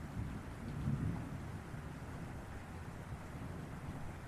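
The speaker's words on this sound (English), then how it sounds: "Lightning flashes fleetingly somewhere. White and piercing, the sky rumbles." Low distant thunder rumbling in the horror visual novel The Letter, a faint deep roll swelling briefly near the start, then a steady dull rumble with a rain-like wash beneath.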